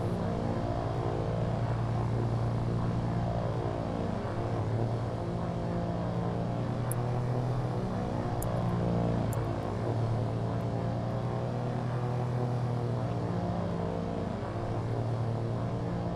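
A paratrooper plane in the war game Foxhole gives a continuous propeller-engine drone with a steady, slightly wavering pitch. It stays up close and constant for the whole stretch, with no voices.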